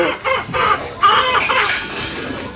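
Domestic chickens cluck loudly and close by, an excited run of squawks with a crowing-like call, continuous and free of talk.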